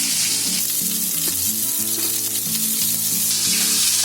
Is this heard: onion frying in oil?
yes